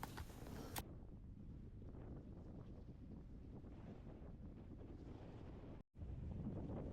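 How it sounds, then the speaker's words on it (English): Strong wind gusting over open water while out fishing, a steady, loud roar buffeting the microphone throughout, with a brief dropout near the end and no talk. "Geez, that wind has really kicked in."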